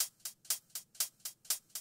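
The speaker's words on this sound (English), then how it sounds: "Both hi-hats together sound like this." Crisp hi-hats layered in an 80s synthpop drum pattern, panned left and right for stereo width, ticking a quick even rhythm of short bright hits, alone and upfront.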